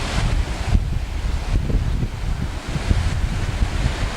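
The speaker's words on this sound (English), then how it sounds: "But with the waves coming in, this south wind, it's pushing it" Strong south wind drives lake waves ashore during a flood, a steady roaring gust with churning surf and buffeting wind noise on the microphone throughout, loud and close with no talking.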